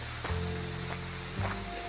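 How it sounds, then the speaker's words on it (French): Steady rain patters on the surface and surroundings during a mountain hike up Mont Rouch de France in the Ariège, a broad hiss with a few louder drops and rustles, close and continuous, with no talking. "La fin sous la pluie."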